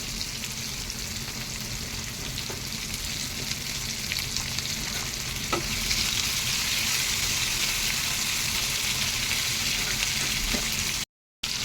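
Vegetables with slit green chillies fry in a pan, giving a steady close sizzle and crackle throughout that brightens and thickens about halfway, with no talking.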